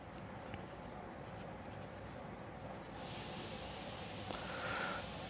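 Someone writes out the terms of a binomial expansion by hand, making a faint, steady scratching that continues throughout, quiet and close, with no talking.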